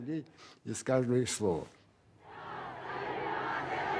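A large crowd chants in unison in Iran, calling for jihad against the communists. It starts after a short burst of loud, rhythmic shouted voices, then grows into a sustained roar of many voices.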